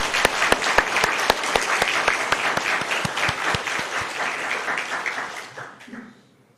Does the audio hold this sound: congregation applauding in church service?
yes